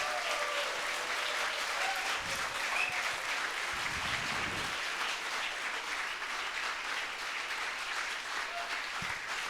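Audience applause for the cast after a Greatest Showman stage performance at a college in Nashik, a dense, sustained wash of clapping heard from within the hall for about ten seconds, with a few faint cheers mixed in.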